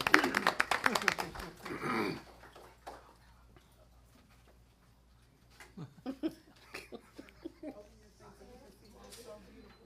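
A short burst of hand clapping from attendees at a city council meeting fills the first two seconds, then fades to quiet room tone and scattered speech.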